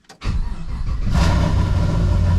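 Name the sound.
car engine starting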